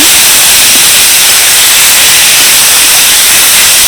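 Grated potato sizzling in hot oil with cumin, curry leaves and green chili, a loud, continuous frying hiss that holds steady from start to finish with no talk over it.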